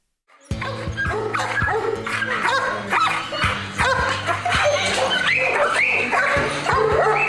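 Several dogs bark, yip and whimper at a municipal animal shelter in Bohumín, a loud and continuous chorus of overlapping barks that starts abruptly and keeps up throughout.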